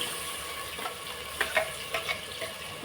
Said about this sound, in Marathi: आता आपण बनवलेले वाटण घालूया